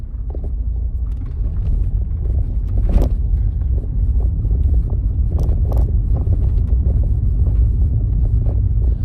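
Rover 45 car driving on the road, a continuous loud low rumble of engine and tyres with wind buffeting and occasional knocks, heard from inside the car.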